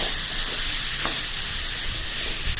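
Boiled taro hits hot oil spiced with whole chillies, dried red chilli, bay leaf and five-spice, giving a loud, dense, continuous sizzle up close with no pauses.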